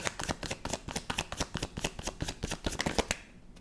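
Tarot cards are shuffled by hand in a quick, even run of crisp riffling slaps, close up and alone, stopping abruptly just before the end.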